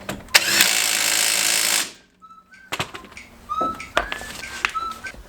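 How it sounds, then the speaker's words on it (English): A power wrench undoes tight 21mm bolts on the front brakes of a Ford Transit Custom: one long loud whirring burst, then a pause, then shorter rattling bursts mixed with clanks and squeaks of tools, close by, with no talking. "I'm going to use my cheat gun, 21mm."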